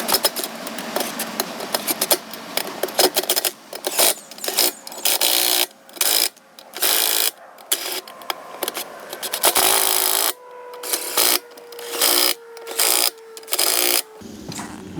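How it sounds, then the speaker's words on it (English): A small DeWalt impact gun set to low, used while preparing race tires, rattles in repeated close, loud bursts with brief gaps between them. "We'll take and set our impact gun down on low."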